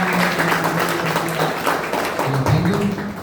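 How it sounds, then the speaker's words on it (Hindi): Audience at a health and wealth awareness program clapping together, a full burst of applause with faint tonal hum and some voices mixed beneath the clapping. "आज हमारे बीच एक बार जोरदार तालियां बजाएं आप अपने लिए"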